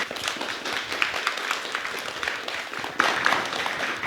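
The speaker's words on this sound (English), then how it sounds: "Can we give another big round of applause for Lili, please?" An audience applauds steadily throughout, a dense wash of many hands clapping at moderate volume, with a slight swell near the end.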